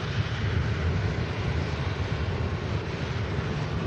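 EasyJet jet airliner on its takeoff roll at Manchester Airport, a broad steady rumbling roar heard from a distance, with wind buffeting the microphone and no voices.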